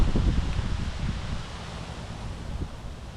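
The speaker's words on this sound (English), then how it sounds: "as soon as I go to filming a video, it starts to get super windy out." Strong wind gusting outdoors, buffeting the microphone with low rumbling bursts and rustling, easing slightly toward the end; no one speaks.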